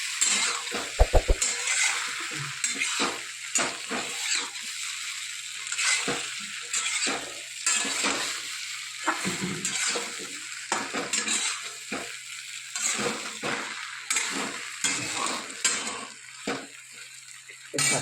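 A tempering for dhokla sizzles in a pan while a spoon stirs and scrapes in irregular strokes, with occasional metallic clinks of utensils close by.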